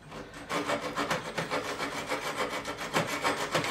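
Steady back-and-forth rasping of a file beveling the fret ends on an Ibanez RG200 neck, close and rhythmic with no talk.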